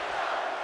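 Dense, loud arena crowd roar in a WWE 2K18 wrestling video game, a sustained wall of massed voices chanting and shouting with no break, heard alone without commentary.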